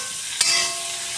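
Ivy gourd (kundri) bhaji frying in a pan gives a dense, even hiss with one brief stir or clatter near the start, heard alone.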